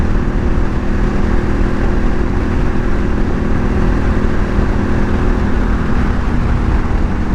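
Suzuki V-Strom 800DE motorcycle on the move, with a steady, loud engine drone and road and wind rush that hold unbroken throughout, no voices.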